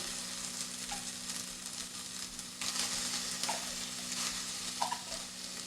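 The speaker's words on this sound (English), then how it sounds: "So I'm just going to go ahead and add my 2 cans of pumpkin." Two cans of pumpkin go into a pot for pumpkin soup and are stirred, giving a steady close scraping and sizzling wash with a few light clinks against the pot, no voices.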